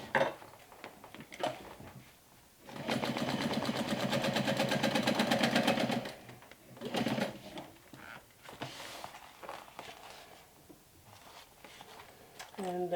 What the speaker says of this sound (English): I'll just go ahead and stitch the top closed